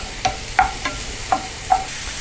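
Sliced mushrooms frying in a pan with salt and pepper, a soft sizzle under a handful of sharp spatula taps and scrapes spaced roughly every half second, close and fairly loud.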